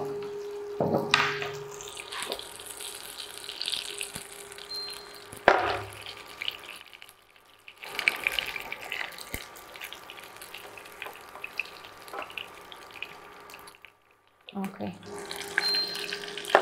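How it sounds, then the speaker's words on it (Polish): A chickpea burger fries in coconut oil in a pan, giving a soft, steady sizzle broken by sharp clinks and clatters of utensils, with a few brief quiet gaps. "To niech się smaży"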